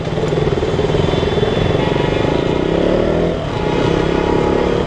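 A KTM Duke 200 motorcycle with a broken clutch wire runs close by with a loud, steady engine rumble and a brief dip and rise in the drone near the end.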